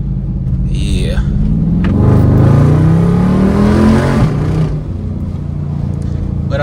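A Jeep SRT engine revs up and holds a deep, loud rumble for a few seconds before settling back to a steady idle, close by.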